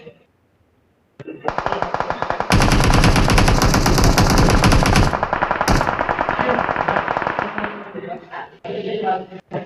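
Automatic weapons fire in the battle-royale video game PUBG: loud, sustained bursts of rapid gunshots with a few sharp single shots at the edges, heard up front.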